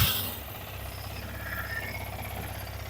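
A Yamaha R15 V3 motorcycle engine idles right after being started with the electric starter, following repair of a starter bearing fault. It gives a steady, close, low rumble with an even mechanical throb and no talk.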